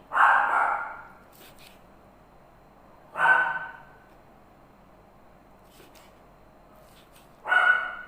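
A dog barks three times at spaced intervals, loud and close, with quiet pauses between each bark.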